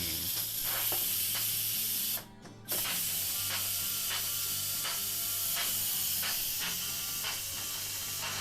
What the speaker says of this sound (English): Now let's release the steam.